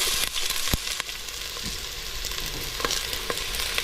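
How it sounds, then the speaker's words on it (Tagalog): Chopped onion and garlic sizzle in oil in a frying pan, a close, steady crackle broken by sharp scraping stirs, with no voices. "Igisa lang natin."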